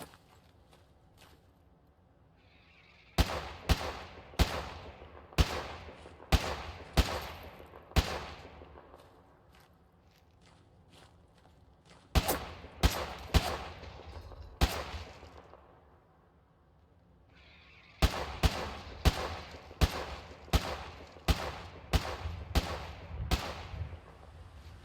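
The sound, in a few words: gunshots in video game Fallout 4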